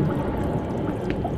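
Steady pouring, rushing water in an aquarium setting in the video game Zoonomaly, a continuous close wash of liquid with no talk.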